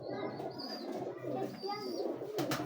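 A sturdy, healthy pigeon gives a soft, low cooing call from close by, brief and fairly quiet, with faint background noise around it.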